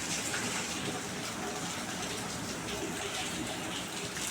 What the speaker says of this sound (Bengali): রান্না করতে করতে এখন চলে আসলাম একটু বৃষ্টি দেখতে।